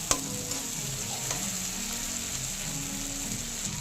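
Ginger, green chili and tomato sizzle steadily in hot oil after a spoonful of Kashmiri chili powder goes in. A constant close frying hiss runs throughout with faint low stirring and no talking.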